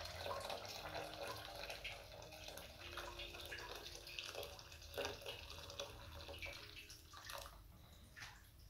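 Water running and splashing over tripe being rinsed in a home kitchen, a steady wet pour with gurgles and a few clinks, moderately near, with no talk.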